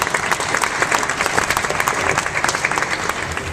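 Applause for a boxer at a post-fight press conference after the Kovalev vs. Hopkins bout, a steady round of clapping from the room that holds at even strength for a few seconds.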